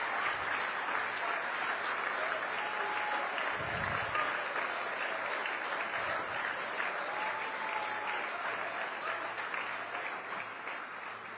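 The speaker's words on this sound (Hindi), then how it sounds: "I think we can give him a big round of applause." Steady, dense applause from a big audience at a gathering where Narendra Modi is chief guest, rolling evenly and fairly distant, then tapering off slightly toward the end.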